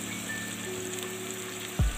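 Tomatoes and garlic cook in a pan for sarson ka saag, giving a steady close sizzle and hiss throughout, with a short louder knock or scrape near the end.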